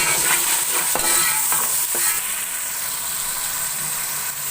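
Four tomatoes dropped into hot oil, a loud hissing fry with a few sharp knocks and stirring clatters early on before settling into a steady sizzle.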